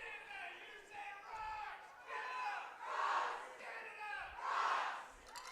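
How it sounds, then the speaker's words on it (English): Crowd noise at an under-19 men's lacrosse world championship match between Australia and Canada, with fans shouting and cheering in rising waves and a commentator talking over the din. "getting the crowd revved up"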